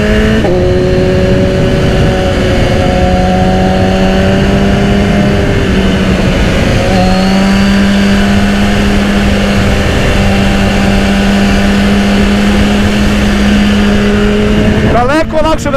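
A 2010 BMW S1000RR sport motorcycle engine pulls hard through its gears, its loud steady drone rising in pitch, dropping at each shift and climbing again, with a final sharp rev near the end under a talking voice.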